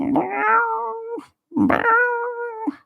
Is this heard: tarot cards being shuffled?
no